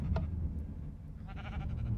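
A Minecraft sheep lets out one drawn-out, wavering bleat, moderately loud and close, over a low rumbling background.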